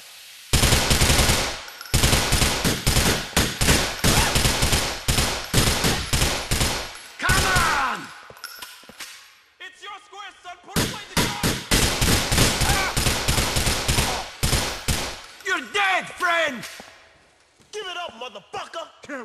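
Gunfire in GTA IV: long bursts of rapid automatic fire, loud and close, broken by short pauses, with shouted voices between the volleys.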